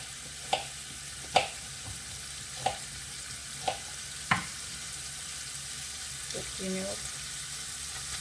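Sliced onion strips frying in vegetable oil in a pan, a soft steady sizzle under a few sharp clatters of a utensil, while someone speaks briefly.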